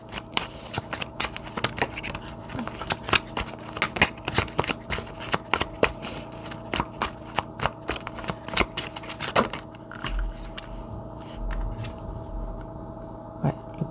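Tarot cards are handled, shuffled and laid down on a table, giving a quick run of crisp flicks and slaps that stops near the end, leaving quieter rustling.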